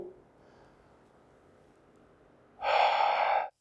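A single forceful exhale during a shoulder stretch exercise comes after a quiet stretch of faint breathing. The breath is a loud, close, breathy rush lasting about a second.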